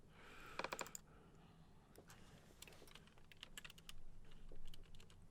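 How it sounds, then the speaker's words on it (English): Quiet typing on a computer keyboard while entering a value into FM8 synthesizer software: a quick cluster of keystrokes, then scattered softer clicks over low background noise. "let's just type in 2 there."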